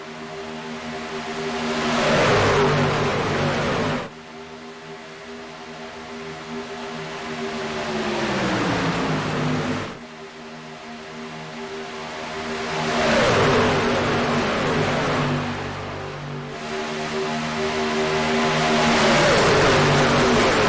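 Packs of race cars roar past at Talladega Superspeedway, engines swelling loudly then dropping in pitch as they sweep by in three distinct waves, with steady engine drone between passes.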